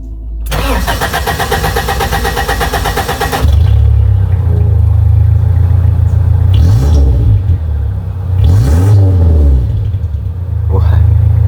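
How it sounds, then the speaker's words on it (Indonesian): A 1983 Suzuki Jimny engine cranks with a rapid starter whir, catches, and settles into a loud, deep idle, then revs up several times in surging bursts, heard close. "coba kita start mesinnya"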